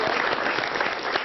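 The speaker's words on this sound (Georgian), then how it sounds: "ტაში. ტაში." A studio audience breaks into brisk, close applause, a steady crackle of many hands clapping together through a short burst.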